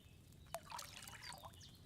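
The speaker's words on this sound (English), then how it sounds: "So, what did you pour in there? Wine, of course." Wine pours from a pitcher into a cauldron in Kingdom Come Deliverance 2, a faint, short liquid trickle and splash lasting just over a second, with no talk.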